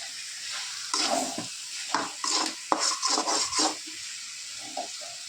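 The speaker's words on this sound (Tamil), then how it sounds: "தண்ணி சேர்த்துக்க வேண்டியது தான்." Water added to chicken gravy in a pan, then a spoon stirs it in several bursts of scraping and sizzling over a low steady hiss.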